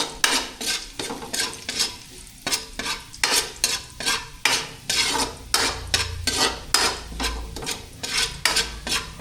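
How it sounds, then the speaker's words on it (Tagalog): Food fries in a pan while a spoon or spatula stirs it steadily, rhythmic scraping strokes over a continuous sizzle, close and fairly loud, with no talking. "Haluin mo lang ng haluin para ano, hindi masunog."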